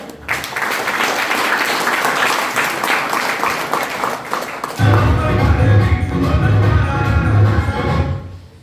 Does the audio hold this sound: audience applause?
yes